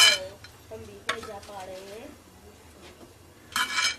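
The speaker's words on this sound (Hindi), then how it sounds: "सबसे पहले हम बादाम को रोस्ट करेंगे" Almonds are stirred and roasted dry in a pan, with clattering scrapes at the start and a louder rattle near the end, and a voice speaking in between.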